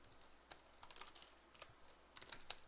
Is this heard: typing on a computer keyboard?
yes